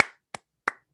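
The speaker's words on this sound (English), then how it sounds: "And claps for that." Three separate sharp claps, spaced evenly about a third of a second apart, each crisp and close with a quick decay into silence.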